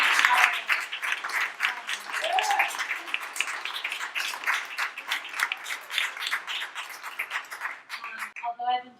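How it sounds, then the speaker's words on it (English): An audience at a bookstore event claps in sustained applause, dense and lively throughout, with a voice briefly heard over it at the very end. "I did want to make sure we give Sarah Fader one last applause."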